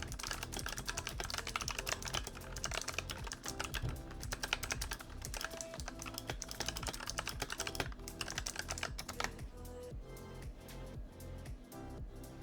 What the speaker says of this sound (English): just to do a little sound comparison, here's my old Razer keyboard.